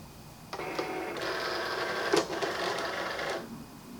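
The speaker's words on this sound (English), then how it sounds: "So then we're just going to go in and load our mat." A Cricut cutting machine draws in a mat, its motor whirring steadily for about three seconds with small mechanical clicks partway through, close and clear in a quiet room.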